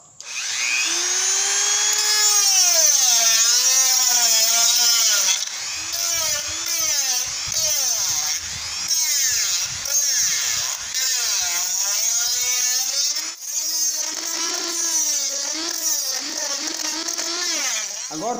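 A handheld power tool set to speed 4 sands a small homemade sugar bowl with a steady high-pitched whine. Its pitch repeatedly dips and recovers as it bites into the piece, loud and close, with no talking.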